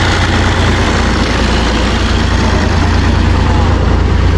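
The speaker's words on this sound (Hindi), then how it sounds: "ये देखें भाईजान ट्रैक्टर का रुख मोड़ के आ गए हैं" A tractor hitched to a trolley idles heavily right up close after being turned around in a farm field, a loud, constant low rumble that fills the whole moment.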